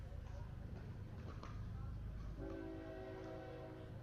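A train sounds a sustained horn as it rolls past near a pickleball tournament, starting partway in over a low rumble and blending with voices and crowd noise.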